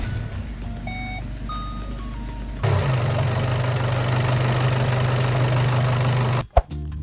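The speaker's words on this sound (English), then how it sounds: "now I will start the engine for short period" A VW 2.0 TDI EA288 diesel engine cranks over and settles into a steady, loud idle close by, with intermittent beeping tones at the start before the engine catches and a brief clunk near the end.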